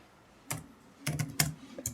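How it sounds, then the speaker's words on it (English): Typing on a computer keyboard: a few sharp, close key clicks in an irregular cluster over a quiet background. "Here we are typing any message"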